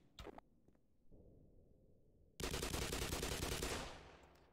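Automatic weapon fire in the Black Mesa video game: a short opening burst, a lull, then a loud sustained rapid volley that fades out, close and with no talk.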